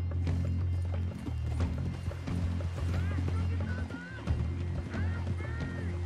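A horse's hooves clip-clop in steady rhythm in Red Dead Redemption 2, close and continuous, with thin whistling tones above and a voice talking over it.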